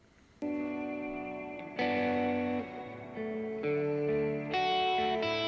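Electric guitar plays a sequence of sustained chords and notes through an Echo Boy echo plugin with room ambience, each strum ringing out with trailing repeats, heard alone.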